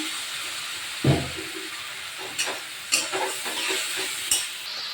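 Spice paste of ground coriander and cumin sizzles and hisses steadily in a pan after a little water goes in, with a sharp splash at the start and a few stirring scrapes.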